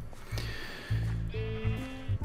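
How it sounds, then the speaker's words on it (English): Sheep in the video game Minecraft bleat several times in quick succession, short nasal calls close up and moderately loud, alone without talk. "Come on, sheep."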